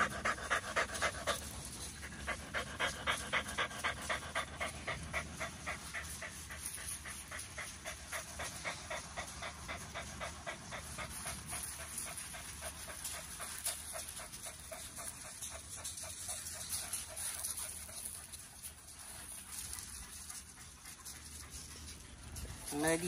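Muddy dog panting heavily and fast right up close, a steady rhythmic huffing that runs throughout like a chugging train.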